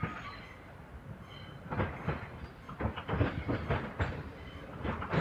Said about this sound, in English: next train to arrive is going to be a terminating London North Western Railway service